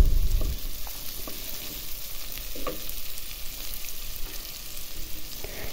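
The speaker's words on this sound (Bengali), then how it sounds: "দেখুন তেলে ভাজতেছি" Fish frying in hot oil in a covered pan, a steady, close sizzle that holds evenly throughout, starting with a brief low thump.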